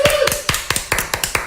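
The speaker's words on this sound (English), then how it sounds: "I'll give a little clap" A single person gives a short run of about ten sharp, evenly spaced hand claps, close and fairly loud, in a radio show studio, with a bit of voice underneath.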